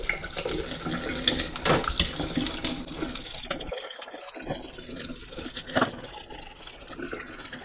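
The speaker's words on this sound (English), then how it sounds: "we're just going to rinse this under some nice warm running water" Warm tap water runs steadily into a kitchen sink as parts from a Bosch Tassimo My Way coffee machine are rinsed, a soft, close splashing with a brief lull before the flow returns.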